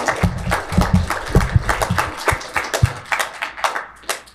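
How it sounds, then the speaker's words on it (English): A small audience claps for a speaker at an event, with distinct, uneven individual claps close by rather than a dense roar, tapering slightly toward the end. "Let's give him a round of applause."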